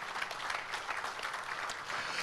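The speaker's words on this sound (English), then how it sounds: "A big round of applause to them, ladies and gentlemen." Brief burst of steady audience applause at a business awards ceremony in Tauranga, moderately loud and continuous throughout.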